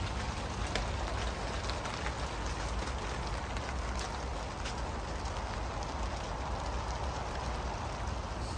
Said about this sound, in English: as you can hear, it's absolutely pouring down